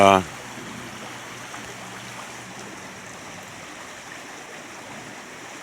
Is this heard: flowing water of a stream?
yes